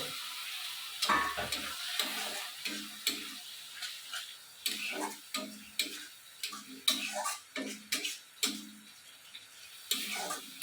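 Duck meat fries with meat masala in a pan, a steady sizzle broken by repeated scraping stirs at an irregular rhythm, close and moderately loud, with no talking.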